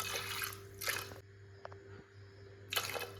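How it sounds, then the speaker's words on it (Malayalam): Water poured into a pressure cooker holding soaked cowpeas, heard as two short bursts of splashing pour near the start and another at the end, with quiet drips and clinks between. "വെള്ളം ഒഴിച്ചു കൊടുക്കാം"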